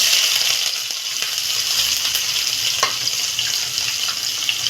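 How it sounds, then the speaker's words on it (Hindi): Steady, dense sizzling of chopped onion frying in hot oil, loud and close, with faint scattered clinks and no talking. "प्याज को फ्राई कर लेंगे।"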